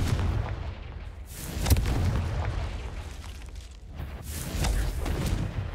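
Confringo fire spells go off in Hogwarts Legacy during a combat encounter, as a string of deep booming blasts with sharp cracks at irregular intervals over a rumbling battle din. No voices are heard.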